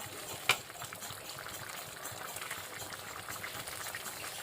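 Vada curry masala with chana dal simmering on the stove: a faint, steady bubbling and popping in a pot, with one sharp tap near the start.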